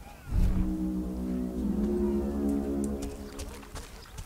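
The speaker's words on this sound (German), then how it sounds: "Was ich auch sehr stylisch finde, ist das Signalhorn." A deep, droning signal horn from the video game Overlord sounds to recall minions, starting abruptly and holding a low foghorn-like blast for several seconds before fading, with faint in-game rustling over it.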